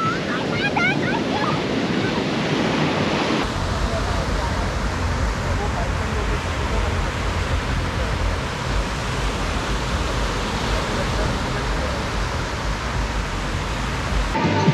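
Continuous rushing roar of surf and strong wind buffeting the microphone on a Goa beach, steady and loud throughout, with faint voices underneath.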